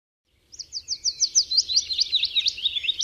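Willow warbler singing up close: a clear, sweet phrase of descending whistled notes in a steady rhythm, running for about two and a half seconds after a short silence, with faint background noise.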